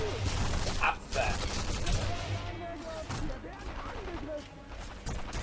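Gunshots pop repeatedly in a World War II firefight in Sniper Elite V2, moderately loud and scattered across the moment, with people talking throughout.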